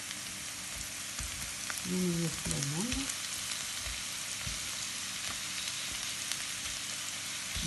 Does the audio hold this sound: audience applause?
no